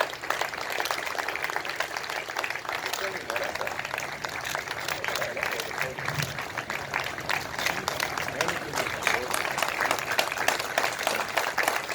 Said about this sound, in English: please give a huge round of applause to parents of Major Sandeep Unikrishnan, Ashok Chakra